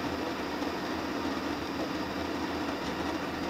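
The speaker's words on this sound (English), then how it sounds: "The KitchenAid Burr Grinder is also one of the quieter burr grinders in our lineup." A KitchenAid burr coffee grinder runs as a steady, even mechanical whir with constant grinding noise, heard from a typical operating distance with no pauses.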